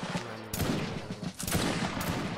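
Musket volleys in the Napoleonic Wars battle game Mount and Blade, several loud sharp shots crackling in quick succession, some overlapping into ragged bursts across a couple of seconds.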